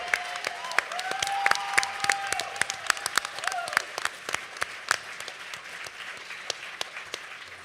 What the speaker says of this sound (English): Let's give a great round of applause for Ahmaud Arbery's mother, Wanda Cooper Jones.